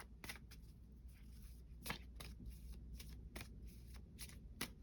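Tarot cards being shuffled by hand, a run of quick riffling flutters and soft slaps repeating in irregular bursts, close and fairly quiet with no talking.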